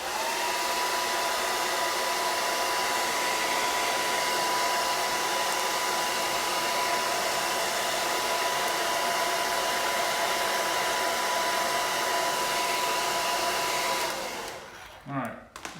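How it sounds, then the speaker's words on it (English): A pink hair dryer, used to heat vinyl wrap on a Camaro, blows steadily with a constant whirring hiss and a faint high tone, running alone for about fourteen seconds before shutting off. "Get your heating device, in this case, a pink hair dryer"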